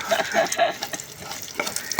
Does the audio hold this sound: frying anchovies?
yes